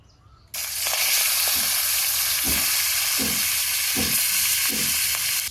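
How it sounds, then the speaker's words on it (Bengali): Hilsa fish hits hot oil and breaks into a loud, steady frying sizzle after a quiet start, with several soft thumps of stirring or handling spaced through it. "এখন এই তেলে ইলিশ মাছ ভাজি।"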